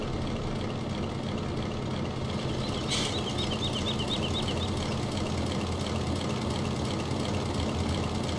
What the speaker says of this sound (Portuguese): Que o ronco do motor é um pouco bugado.